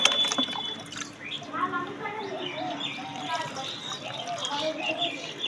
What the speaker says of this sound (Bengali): এখন পানি দিচ্ছি একটু বেশি বেশি করে পানি দেব